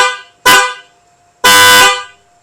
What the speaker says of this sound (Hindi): अभी हम आपको हॉर्न सुनाने लगे हैं।